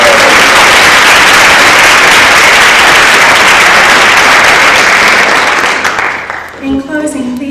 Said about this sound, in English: Let's please give a final round of applause to our awards recipients.